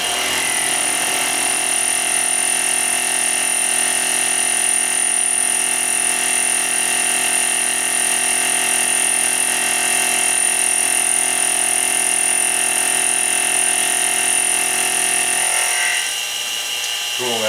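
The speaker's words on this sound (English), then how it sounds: "just wanted to show a little fly cutting here with the power feed and a nice quieter mill here" A quiet milling machine fly cuts metal on power feed, giving a steady, loud, sustained whine with a high ringing tone that holds evenly for the whole stretch and changes sharply near the end.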